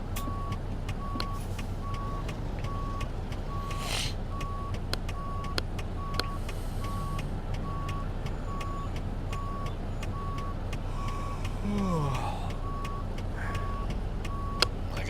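A truck backs a trailer slowly in American Truck Simulator, its reversing alarm beeping in a steady, evenly spaced rhythm over a constant engine drone, with a brief rising engine swell near the end.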